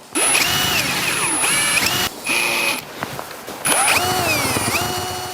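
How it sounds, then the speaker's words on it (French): A power drill drives screws through washers into a front wall panel of an insulated garden shed, three bursts of whining motor that rise and fall in pitch, separated by brief pauses, close and loud. "je visse le premier panneau de la façade avant avec les vis V3 équipées de rondelles"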